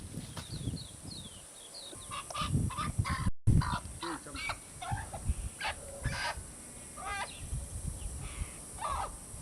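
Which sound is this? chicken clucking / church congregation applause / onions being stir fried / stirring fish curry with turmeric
chicken clucking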